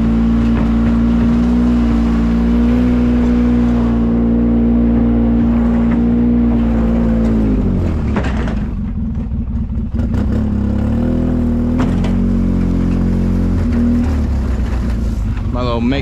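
A vehicle's engine drones loudly and steadily while a trailer is turned around on a steep woodland slope, the pitch dropping midway as the engine eases off, then settling back into a continuous rumble with wind buffeting the microphone.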